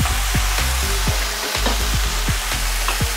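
Beef and white mushrooms stir-frying in a hot pan, a steady close sizzle with regular scraping strokes of the utensil about twice a second as the food is kept moving.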